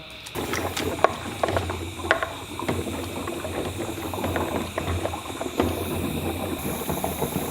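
Air bubbles through sanitized tubing into fermenter beer wort during a home brew day, a continuous hiss and gurgle with rapid irregular bubbling pops and a steady pump-like drone.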